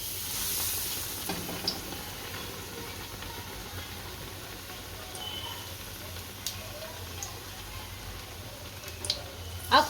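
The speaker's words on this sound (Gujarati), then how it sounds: "તેલ આવી ગયું છે તો તળી લઈએ આપણે" Spiced-bread pakoda sizzles in hot oil in a pan, with a steady, crackling fry throughout and a few sharp pops and clinks toward the end.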